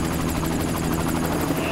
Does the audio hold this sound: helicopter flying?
yes